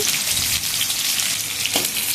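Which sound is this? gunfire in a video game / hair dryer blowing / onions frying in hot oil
onions frying in hot oil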